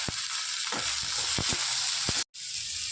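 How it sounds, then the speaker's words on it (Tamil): Onions sizzle and crackle steadily in a hot pan for Chettinad chicken gravy, punctuated by a few sharp stirring scrapes and a brief cut in sound. "இந்த வெங்காயம் வதங்கட்டும்"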